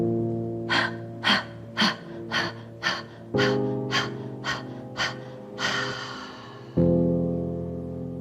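Deep yoga breaths, a series of about ten sharp, rhythmic inhales and exhales close to the microphone at a steady pace, with a low steady hum underneath and no talking.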